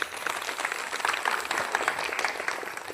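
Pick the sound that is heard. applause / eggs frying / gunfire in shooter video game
applause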